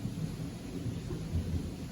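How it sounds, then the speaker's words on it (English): Low rumble of thunder rolling through a Florida summer thunderstorm outdoors, a continuous deep growl with faint rain in the background and no voices. "Got a thunderstorm going on now."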